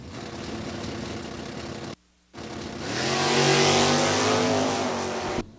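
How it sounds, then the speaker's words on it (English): A C-Stock Automatic 428 Mustang revs at a drag raceway, its engine note rising and building loudly after a brief gap, heard fairly near without talk. "Doug Baker's C-Stock Automatic, 428 Mustang"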